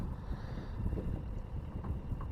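Steady wind rushes and buffets the microphone on an open fishing boat out after crappie in early fall, with a constant low rumble of gusts throughout and no talking.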